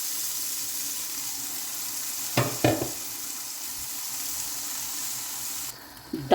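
Boiled chana dal hits hot oil-separated masala in a karahi, giving two sharp sizzling bursts over a low steady frying hiss before quieting.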